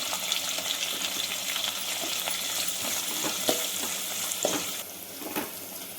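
Onions and green chillies fry in hot oil for vegetable rava upma, giving a steady close sizzle with light stirring scrapes and a few clinks throughout, with no voices.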